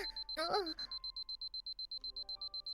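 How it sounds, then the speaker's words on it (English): A cell phone alarm rings inside a video game, a rapid train of evenly spaced high electronic beeps continuing steadily, heard right after a brief burst of voice and followed by soft background tones. "a bit of divine providence arrives in the form of her cell phone's alarm"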